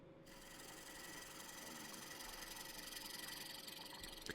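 A lathe hums steadily while a tool cuts into a spinning firewood bowl near its bottom centre, giving a continuous close rasping drone with a faint rhythmic scrape and no talk.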